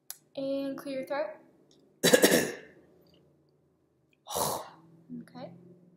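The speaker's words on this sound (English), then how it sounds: "And clear your throat." A person speaks briefly, then gives a harsh throat clearing on request during an oral motor examination, followed by a second rasping clear and a few quiet words.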